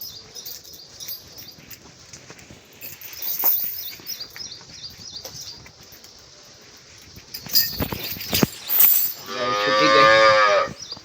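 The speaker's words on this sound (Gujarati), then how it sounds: "બસ ગાય" A cow tied up in a village yard moos, several drawn-out calls at moderate range, the last one long and loud, with quieter rustling and scattered noises between them.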